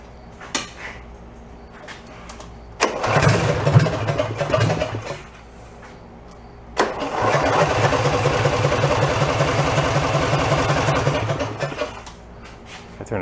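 A big go-kart engine with a choke, at an amusement park, is cranked over in a short rough burst, then catches and runs with a steady rhythmic chugging for several seconds before cutting off, close and loud.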